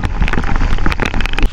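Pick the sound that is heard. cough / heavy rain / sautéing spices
heavy rain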